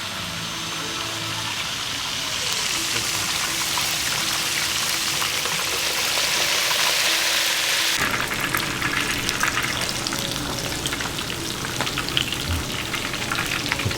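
Fish fries in hot oil in a Filipino-style home kitchen, giving a dense, continuous sizzle that shifts in texture midway and stays loud and close throughout without speech.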